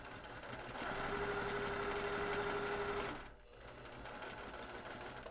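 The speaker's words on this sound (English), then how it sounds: "I'm simply stitching a 1/4 inch seam." A sewing machine runs steadily while stitching a quarter-inch seam on a trapunto tree mini wall hanging, with a loud continuous whir that drops briefly near the end, then resumes a little softer.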